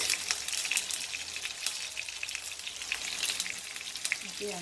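Tofu frying in hot cooking oil, a steady close hissing sizzle with crackling pops, fairly quiet and alone.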